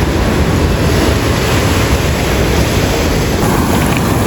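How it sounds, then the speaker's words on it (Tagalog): Strong surf at Pacifico Beach, a surfing beach in Siargao, a loud, unbroken roar of breaking waves mixed with heavy wind buffeting the microphone. "napakalakas ng alon, lakas yung mga waves"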